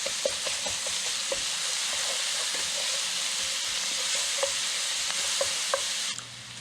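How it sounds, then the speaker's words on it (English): Onions sautéing in a pan with kosher salt and black pepper give a steady, close sizzle, punctuated by frequent light scrapes and clicks of stirring throughout, before the sound briefly softens at the end. "And start to saute these."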